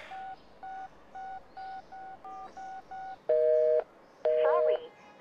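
A phone is dialed, sounding as a rhythmic run of short, even keypad tones followed by two longer, louder tones at the end.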